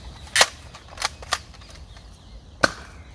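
The X-Shot Excel Vigilante toy dart blaster is loaded outdoors in woods. Four sharp, separate plastic clacks and snaps sound close by, spaced irregularly across a quiet background.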